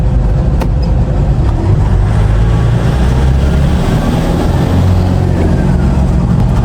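A Toyota Quantum 2.5D Sesfikile diesel minibus engine drones loud and steady from inside the cab while driving, with a constant road rumble and no talking.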